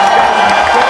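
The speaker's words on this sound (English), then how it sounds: "Let's give her a big round of applause." Audience applause at a school achievers assembly, a dense steady wash of clapping with some cheering mixed in, loud and close throughout the short clip.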